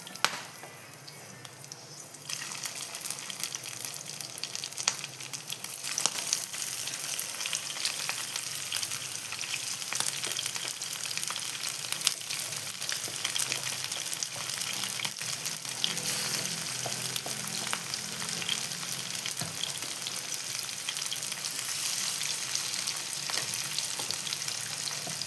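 Fish sizzles and crackles steadily in hot coconut oil in a pan, a dense continuous frying hiss that runs uninterrupted throughout with no talk.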